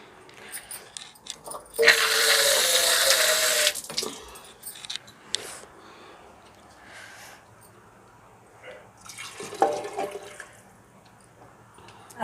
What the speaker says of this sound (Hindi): थोड़ा हल्का सा पानी और डालेंगे इसमें।